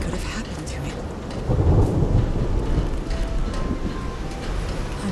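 A thunderstorm in the game Call of the Sea: steady heavy rain with a deep rolling rumble of thunder that swells partway through and lingers, loud and close, with no voices.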